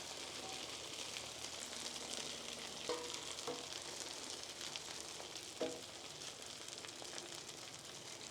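Bread frying on a greasy griddle while making a crack patty melt gives a steady, close, dense sizzle throughout, with a couple of soft knocks partway through.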